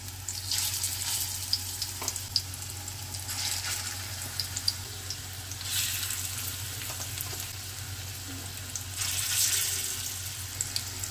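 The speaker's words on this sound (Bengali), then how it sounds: "ফ্লেমটা লো টু মিডিয়ামে নিয়ে তারপরে পকোড়াগুলো বাকিটা ছাড়ছি" Spinach pakoras fry in hot oil over a low-to-medium flame. A steady close sizzle and crackle runs throughout, with brief louder bursts of spitting oil.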